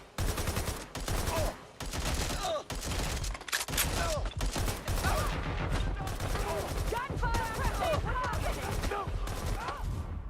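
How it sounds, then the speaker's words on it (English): Dense, nonstop gunfire from the Watch Dogs: Legion video game fills an Albion boss battle, with rapid automatic bursts and overlapping shots, loud and close, while a voice talks over it. "They're shooting! Taking fire!"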